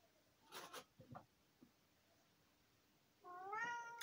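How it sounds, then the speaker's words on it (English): A cat meowing once near the end, a clear drawn-out rising and falling call, preceded by a few soft rustling, scratching sounds in an otherwise quiet room. "because this cat's playing up"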